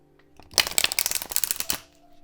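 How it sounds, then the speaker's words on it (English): A deck of oracle cards riffled and shuffled in a quick burst of crisp, rapid flutters, close by, lasting just over a second with no voices. "I'm gonna shuffle"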